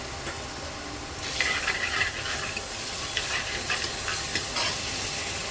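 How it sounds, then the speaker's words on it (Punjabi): Onions sizzle in a hot pan for a mushroom and pea curry, with a spoon scraping and stirring through them in repeated strokes; the frying hiss jumps louder after the first second and stays close and steady. "ਪਿਆਜ਼ਾਂ ਨੂੰ ਅਸੀਂ 2-3 ਮਿੰਟ ਵਾਸਤੇ ਭੁੰਨਾਂਗੇ"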